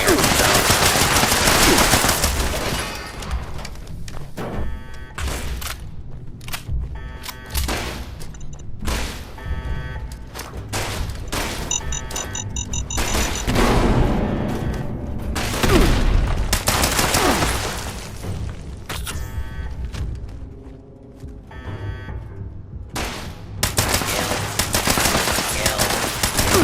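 Gunfire in the Fallout 76 video game at Fort Atlas: sustained rapid automatic bursts and heavy shots rattling almost nonstop for nearly half a minute, loud and dense, with brief lulls between volleys.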